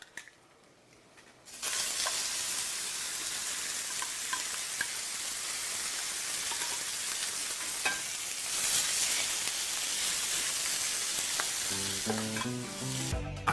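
Basil hits a hot pan and a loud, bright sizzle bursts in after a short quiet start, then holds steady and close for several seconds with faint crackles and a few light utensil clicks near the end.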